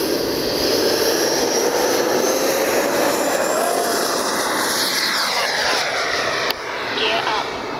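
Freewing MiG-29 RC jet with twin 80mm electric ducted fans taking off at sunset, a loud rising turbine-like whine that swells and then drifts slightly as the model climbs away.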